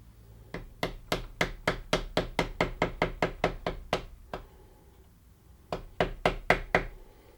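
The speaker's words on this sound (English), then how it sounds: "so use my trusty rubber mallet and use my flat-headed screwdriver" A rubber mallet taps a flat-headed screwdriver to knock over locking tabs during Suzuki Bandit 1200 engine assembly: a rapid, even run of about fifteen sharp, close knocks, a short pause, then another burst of about five.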